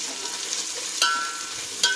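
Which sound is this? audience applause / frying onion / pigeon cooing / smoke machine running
frying onion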